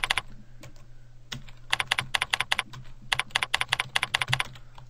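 Quick clicking keystrokes on a computer keyboard typing a search into a web browser on a Windows XP computer, close-up, in a few rapid runs over a steady low background hum, no speech.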